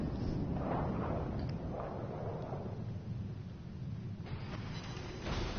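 Heavy naval guns from warships in a video game boom repeatedly, deep rumbling blasts rolling into one another and layered with dense low-end battle noise.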